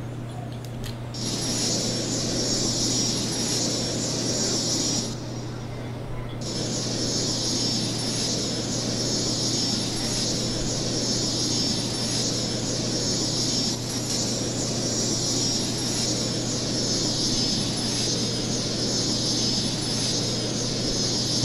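Airplane engine hum in the Cities: Skylines city-building game, a steady, continuous drone with mechanical whine that holds throughout, with a brief dip partway, and no talking.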